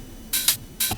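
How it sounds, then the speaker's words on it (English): Roland 909 open hi-hat hits from a drum machine, two bright hissy cymbal bursts about half a second apart, each ringing briefly before cutting off, with a softer click at the middle of the first. "I added some 909 open hi-hat."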